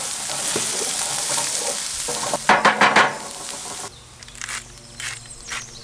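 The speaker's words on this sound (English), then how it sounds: "To the hot oil remaining in the pan, add the trinity: onion, celery and pepper." Onion, celery and pepper fry in hot oil left in a pan on a Weber Q grill for jambalaya, a loud steady sizzle with a burst of stirring clatter midway, then the frying settles quieter.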